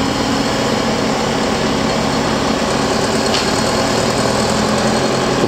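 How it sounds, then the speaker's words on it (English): Pile-driving crane engine running steadily while the crane is moved into position near Port Renfrew, a loud continuous mechanical drone with a constant hum and no pauses or talk. "So we're just moving the crane into position"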